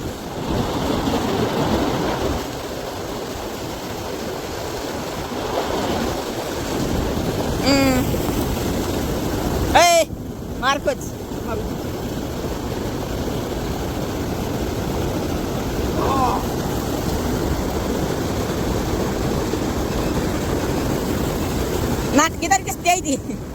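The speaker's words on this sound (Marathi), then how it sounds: "तर इतका पाऊस चालू आहे" Heavy rain pours in a steady, dense roar that fills the whole stretch, with a few brief voices and knocks breaking through near the middle and the end.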